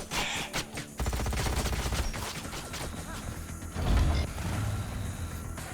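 Ranged units open fire in the strategy game Age of Wonders: Planetfall: loud, rapid bursts of automatic gunfire mixed with mechanical clanks and ratcheting, running almost continuously with a heavier blast partway through.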